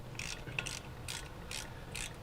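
A ratchet cracks loose 7mm Allen brake caliper bolts on a car's front brakes. About five short, bright clicking bursts come close and fairly loud, with brief gaps between them.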